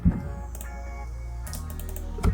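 Fingers tapping on a computer keyboard at a desk, a short burst of clicky keystrokes over a steady low hum, close and fairly clear.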